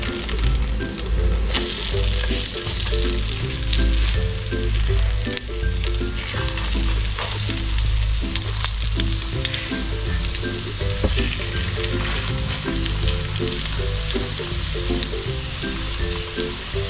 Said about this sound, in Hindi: एक साइड से ये फ्राई हो गई है।